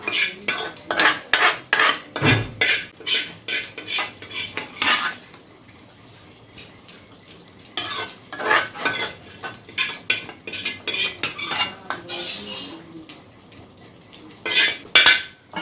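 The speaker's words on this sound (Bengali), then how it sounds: "এটাকে একটু হালকা হাতে নেড়ে চেড়ে নেব।" Chicken kosha being stirred in a pan, with a spoon scraping and clinking against the metal in bursts, pausing briefly in the middle before the stirring resumes; close and moderately loud.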